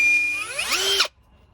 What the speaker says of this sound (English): now I'm going to drill them out